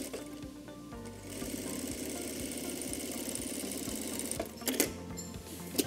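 An industrial sewing machine runs a safety seam at a steady, rapid pace with a mechanical hum, close by and continuous. It ends with a few clicks and thumps, and no voices are heard.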